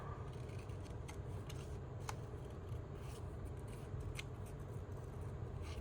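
Scissors cut out paper for a junk journal, with soft, intermittent snips and paper rustles heard up close against a low, steady room hum. No one speaks.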